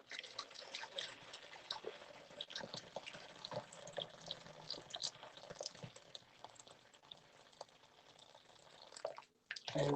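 Hot boiling water being poured into a pan while cooking pan-fried chicken thighs, a continuous splashing, trickling pour with irregular bubbly spatters, close and fairly quiet, ending abruptly.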